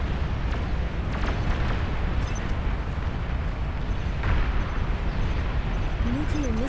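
Repeated nuclear missile blasts in the real-time strategy game Beyond All Reason rumble in a dense, continuous roar of booms and crackling bursts, with a voice speaking over the din.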